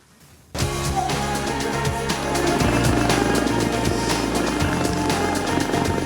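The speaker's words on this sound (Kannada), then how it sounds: "ಏರ್ ಶೋ 2025ರಲ್ಲಿ ಯುದ್ಧ ವಿಮಾನಗಳ ಚಮತ್ಕಾರ" Military jets fly over the Bengaluru Air Show 2025. A loud engine roar bursts in abruptly after half a second and holds as a powerful, sustained rumble overhead.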